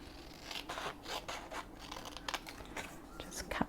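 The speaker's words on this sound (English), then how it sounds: "I'll just cut it first actually." Scissors cutting craft material for a tile project: repeated close rasping snips and rubbing sounds in an irregular rhythm, with faint handling noise.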